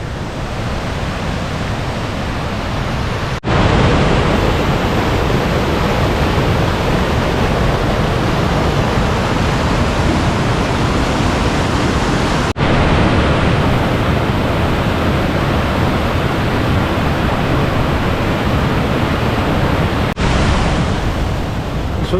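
Cwmorthin waterfall in Wales roars as a steady, loud, broadband rush of falling water, unbroken for over twenty seconds with a few brief dips, and no voices.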